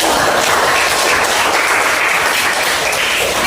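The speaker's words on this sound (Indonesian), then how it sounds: "Tepuk tangan untuk kita semua." A classroom of students claps together in a teacher-training lesson, a dense, steady burst of applause that stays loud and close for the whole stretch, with no talking over it.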